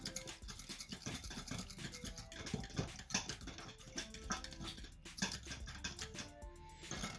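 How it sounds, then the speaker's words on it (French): Crunchy glue-free slime made with water and boric acid being stirred and mixed with a large amount of polystyrene beads, giving a steady, close crackling and squishing texture that runs continuously throughout. "Une fois que c'est fait, je mélange."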